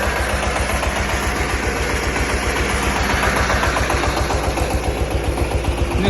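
A Scout 220V mini tractor runs close by while pulling a disc harrow through waist-high weeds in a field. Its engine chugs in a steady, rapid rhythm with a loud, even knocking pulse.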